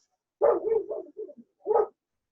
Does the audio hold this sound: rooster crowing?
no